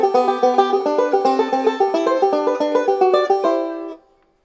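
A banjo plays a rolling picking pattern, running up the neck and back down in quick, even plucked notes, close and clear, ending on a ringing note that fades out.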